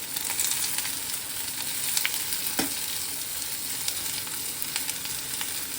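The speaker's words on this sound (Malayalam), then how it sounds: "അപ്പൊ 2 ടീസ്പൂൺ നെയ്യ് നമ്മൾ ചൂടായ ചീനച്ചട്ടിയിലേക്ക് ഇട്ടു. അതിലേക്ക് 1 കപ്പ് അരിഞ്ഞു വെച്ച ചെറിയുള്ളി ഇടുകയാണ്." Chopped shallots frying in hot ghee in a kadai, a loud continuous sizzle and crackle with occasional sharp spatters and faint stirring.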